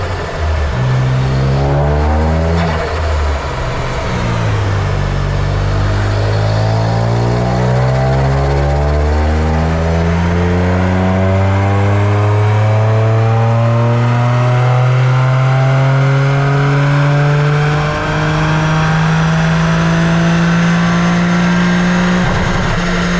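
A tuned Toyota GR Yaris with Kelford cams and an Ecutek ECU tune roars on a dyno, revving up through the gears in long rising pulls, loud and close throughout.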